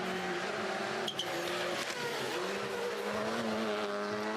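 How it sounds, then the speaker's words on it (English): Rally car racing through a WRC Rally Latvia stage, engine roaring steadily with tyres squealing in sustained high tones as it corners hard, loud and close throughout with no talk. "You hear the tyres screaming for mercy."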